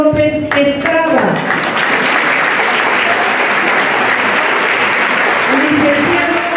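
An audience breaks into loud, sustained applause to welcome a speaker at a thanatology lecture in Mexico. The clapping fills the room evenly, with brief tonal voice or music traces at the start and near the end.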